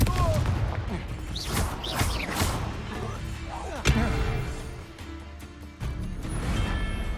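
Fire spell blasts and magical combat effects in Hogwarts Legacy, a dense mix of booming impacts with a sharp explosive hit near the middle and another thump later, over a constant roar of battle noise.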